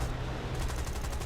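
Rapid automatic machine-gun fire from an airplane in the flight video game Skybow, a steady dense burst of shots running loudly through the whole moment without pause.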